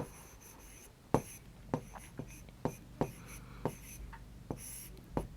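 Chalk or marker strokes tap and scrape across a classroom board in an irregular series of short, crisp hits with small scratchy pauses between, close and fairly loud with no talking over them.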